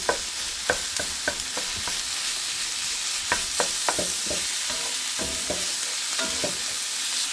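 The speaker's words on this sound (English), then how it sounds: "Gonna break up the pork here." Ground pork frying in a pan, a steady loud sizzle punctuated by repeated scraping and tapping knocks as a utensil breaks up and stirs the meat.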